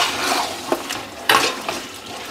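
Onions sauté in a pan with a steady soft sizzle, broken by a few scraping clicks of stirring.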